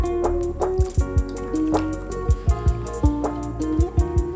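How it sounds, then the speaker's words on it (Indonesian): Water splashes and drips in uneven bursts over a spinning fishing reel being rinsed of soapy water, with steady background music playing underneath. "Kita siram lagi di bagian kotor nih"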